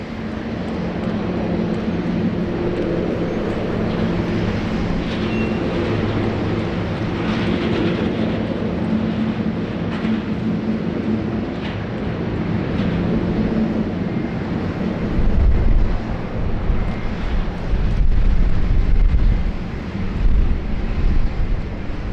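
Garuda Airbus A330-300 airliner in retro livery taxiing at Sydney Airport, a steady low jet engine rumble and whine held close and loud throughout, swelling slightly toward the end, no voices.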